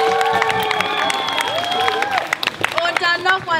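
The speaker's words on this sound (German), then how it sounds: "Können wir einen Applaus für Sie haben?" An audience at a talent evening applauds and cheers, steady clapping under whoops and shouting voices, with a lively crowd wash throughout.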